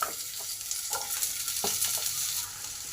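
Potatoes tipped into hot oil already frying dried red chillies, five-spice seeds and bay leaf for a Bengali fish curry, giving a steady close sizzle with scraping stir strokes throughout.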